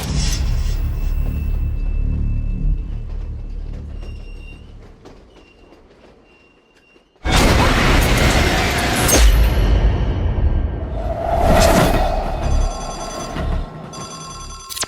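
A telephone rings in a tense horror movie trailer scene for Scream 6, a sustained bright ring over rumbling dramatic sound, with loud abrupt swells and crashes.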